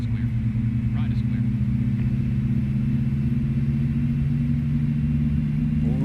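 Airbus A310 jet engines run in a flight simulator, giving a continuous, loud, low rumbling drone with steady tonal hum and no voices.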